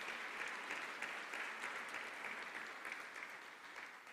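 A church congregation applauds for the Lord, dense continuous clapping that holds steady and tapers slightly at the end, fairly distant with no voices over it.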